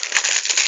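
Cellophane wrapping on a Pokemon Black 2 game box crinkles in a quick, close, bright burst of crackling under a second long, without talk.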